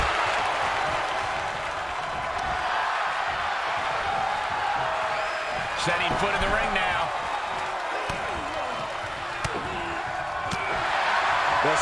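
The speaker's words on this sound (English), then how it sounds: "The sound of this crowd is deafening, and he's asking for more." Arena crowd in the WWE 2K22 wrestling video game roars and cheers steadily throughout an NXT match, with a commentator talking over the din.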